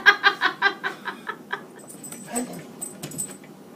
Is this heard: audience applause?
no